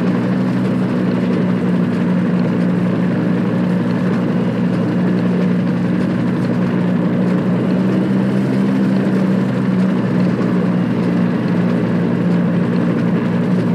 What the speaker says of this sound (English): just riding on a helicopter, bro. Flying and chilling.